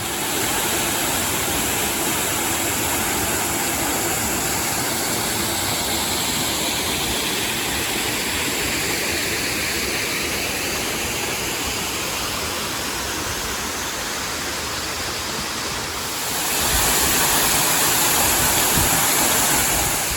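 Steady, loud roar of falling water at Bushkill Falls, a continuous broadband rush heard close up with no voices, its tone shifting slightly brighter near the end.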